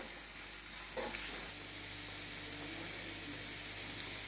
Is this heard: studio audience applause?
no